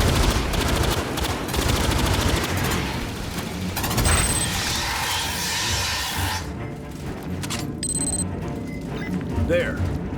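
Rapid sci-fi rifle fire in the Aliens: Fireteam Elite 2 game, dense continuous bursts and impacts at close range, busy combat noise throughout with voices calling out underneath.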